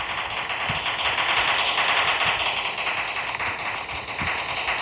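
Rapid video-game gunfire in prop hunt, a dense crackling burst of shots running continuously and loudly through the whole stretch without talk.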